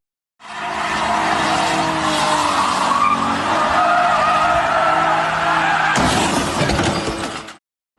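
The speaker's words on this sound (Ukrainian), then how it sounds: "Вереск гальм, нестерпні децибели двигунів та несамовитий рик мотоциклів." Drifting cars screech their tires loudly and continuously over roaring engines that run without mufflers, with a sharp, harsher burst of noise near the end.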